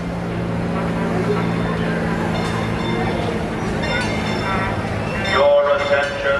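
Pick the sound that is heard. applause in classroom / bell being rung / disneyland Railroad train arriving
disneyland Railroad train arriving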